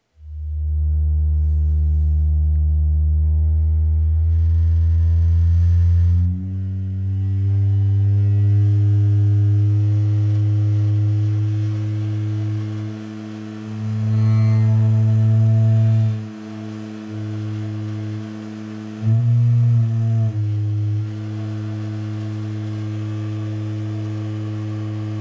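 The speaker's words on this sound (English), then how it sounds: "I don't know if you could hear that over that droning tone" Loud, sustained low droning test tone played from an Axe Fx III through a real guitar cabinet at gig volume, holding steady pitches with a few brief shifts and dips.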